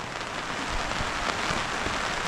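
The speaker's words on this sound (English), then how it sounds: "It's been pissing down now for a while." Heavy rain pours down in the outback, a dense, steady hiss of drops drumming on surfaces without pause, close and uniform throughout.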